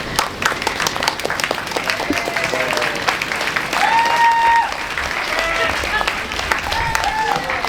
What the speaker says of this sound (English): May we have a huge round of applause for them again.